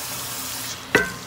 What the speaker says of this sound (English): And you're just going to mix all that in there.